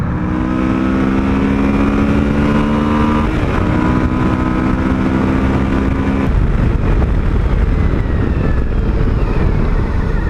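A 2021 Suzuki V-Strom 1050XT motorcycle revving hard at high RPM, loud and close, its engine tone holding steady, dipping briefly at a shift, then rising again over heavy wind rush.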